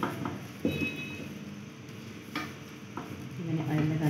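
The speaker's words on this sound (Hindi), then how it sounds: "इस साइड पे मैं ऑयल लगाऊंगी।" Aloo paratha sizzles softly on an oiled griddle, a steady low frying hiss with a few scraping and stirring touches of a spatula; no one speaks.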